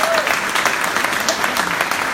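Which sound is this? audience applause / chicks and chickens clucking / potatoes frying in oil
audience applause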